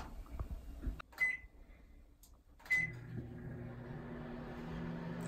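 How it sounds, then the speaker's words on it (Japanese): A microwave oven heating a retort pouch of Imperial Hotel tomato soup or curry: two short beeps as buttons are pressed, a door clunk, then a steady low hum of the running oven. "それでは今から電子レンジで温めていきます。"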